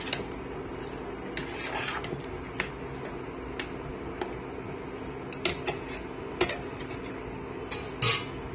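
A utensil stirring potato and taro curry with garam masala and sugar in a pan, giving light, irregular taps and scrapes over a steady low background hum, a brief louder clatter near the end.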